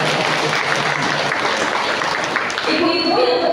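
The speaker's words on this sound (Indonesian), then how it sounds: "Boleh sekali lagi saya beri tepuk tangan semangat." Steady, dense audience applause fills a hall at a school anniversary parenting class in Depok, continuous and fairly loud throughout, with a voice starting to speak over it near the end.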